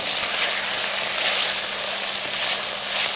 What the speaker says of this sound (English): Keep stirring as I'm showing here